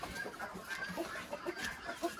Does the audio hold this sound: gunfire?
no